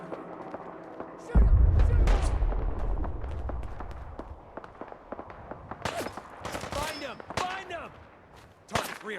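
Gunfire in the video game Fallout 4 comes as repeated sharp, close shots, some clustered in rapid bursts, mixed with shouting voices and game sounds.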